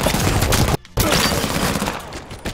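Rapid gunfire in a multiplayer shooter game, loud and dense bursts nearly filling the moment, with one brief gap of near silence before the shooting resumes.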